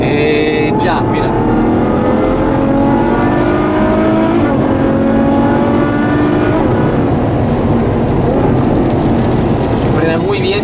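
A 2014 Ferrari FF runs on a wet race track with a loud, continuous engine drone and its pitch rising through the gears, tire and spray noise throughout, and someone talking over the sound from inside the car.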